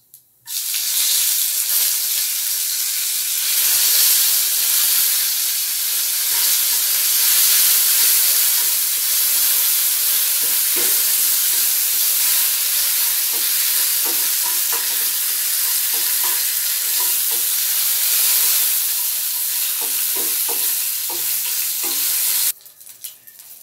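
Curry leaves crackle and sizzle in hot oil while upma is being made, a loud, dense hiss that holds steady for over twenty seconds with scattered pops and stirring clicks before it cuts off.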